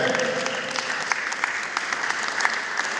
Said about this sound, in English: Please clap for him again.